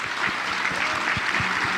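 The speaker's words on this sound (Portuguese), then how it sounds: "Vamos dar uma salva de palmas para eles" Audience applause for a couple, the Fogaças, at a couples' event: dense, steady clapping from a crowd, sustained evenly and loudly throughout with no talk over it.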